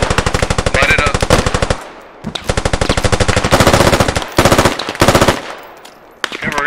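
Bursts of rapid automatic gunfire from a squad shooter video game, loud and close, coming in several rattling volleys separated by short gaps.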